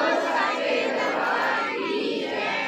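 Crowd at a devotional gathering for Sant Baba Bal Vishal Nath Ji Maharaj in Pathiyal, Hoshiarpur, shouting a jaikara together in a loud, sustained, dense roar with no pauses.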